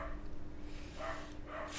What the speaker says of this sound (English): Freaking dog, I swear to God.